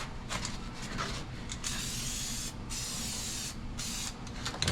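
Aerosol weld-through primer sprayed onto bare steel floor pan metal of a 1952 Chevy pro street build, several close hissing bursts broken by short pauses, with no talking.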